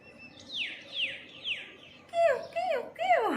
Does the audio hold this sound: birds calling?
yes